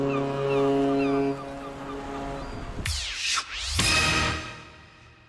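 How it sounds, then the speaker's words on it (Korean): A distant ship passing by sounds a long, deep horn blast that swells and fades, with a brief break mid-blast, heard over faint background sound after a quiet opening. "멀리 지나가는 배의 기적 소리까지"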